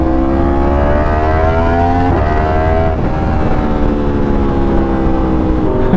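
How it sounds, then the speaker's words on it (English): A Yamaha R1 motorcycle with a flashed ECU drones loudly and continuously, its exhaust note holding steady with slight pitch shifts throughout. "Oh, that exhaust sounds so good"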